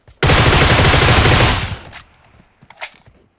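Rapid, sustained automatic gunfire from a mobile battle royale shooter game blasts loudly for over a second, then trails off into a few scattered quieter shots with brief pauses.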